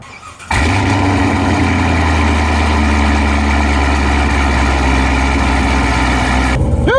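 A Cadillac CTS-V fitted with a Magnuson 2650 supercharger fires up after a brief quiet moment and settles into a loud, steady, deep idle with a constant low rumble, heard close and alone for about six seconds.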